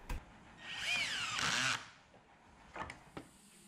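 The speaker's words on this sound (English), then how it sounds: "try to closely approximate the angle of the pocket with your driver. This will allow the screw to follow its intended path" A power driver sets a pocket screw into wood with a close, rising whine of about a second, followed by a few faint knocks and clicks.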